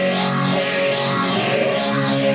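Electric guitar chord ringing through an overdrive pedal, a thick, gritty sustained tone held loud and steady for a couple of seconds, no voices.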